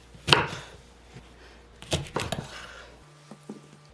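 A knife slices garlic cloves on a cutting board in a home kitchen, a few sharp, distinct chops spaced apart with quiet between them.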